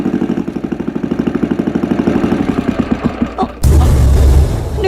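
A boat engine runs with a steady, rapid mid-range chugging that loosens and slows into uneven thumps before cutting out, followed by a louder, rumbling wash of low noise.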